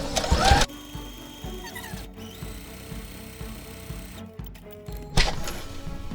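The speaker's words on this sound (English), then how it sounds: "do a second row of stitching" A sewing machine runs a second row of stitching, a steady rapid mechanical chatter of the needle that stops briefly and restarts, with short louder rustles of fabric at the start and end.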